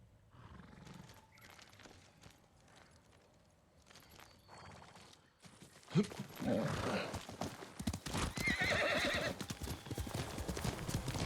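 In the video game Ghost of Tsushima, hooves pound in a fast gallop that grows louder and closer, with a horse snorting and rough breathing as it draws near.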